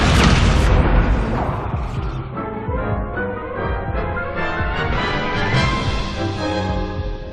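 Spell casting in the Hogwarts Legacy video game, a dense, continuous stretch of booming blasts and bursts layered with rumbling and crackling effects, loud throughout with no clear gaps.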